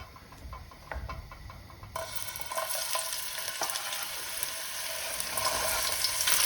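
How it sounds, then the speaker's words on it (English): Chopped onions sizzling in hot oil for an Italian tomato pasta sauce, a faint crackle that suddenly brightens into a steady hiss, with soft scraping of stirring and no talk. "I keep stirring them because I don't want to burn the onion"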